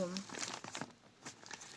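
Crinkly paper surprise packets are handled and unpacked, making a steady run of close, papery crinkles and rustles, with a brief voice at the start.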